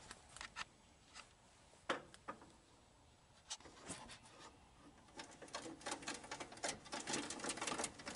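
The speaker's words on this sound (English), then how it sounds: "The raising and lowering seem to be indexed with the feeling of a bunch of detents when cranking it up or" A Grizzly G0959 combo jointer/planer table crank clicks through its detents in a quiet, irregular run of sharp ticks. The clicks grow denser toward the end, close up with no talk.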